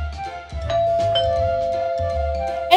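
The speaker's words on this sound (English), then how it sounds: "They ring the doorbell" A doorbell rings in a children's cartoon at a schoolhouse door, a clear sustained electronic chime tone with a brighter ding near the end, sounding over soft background music.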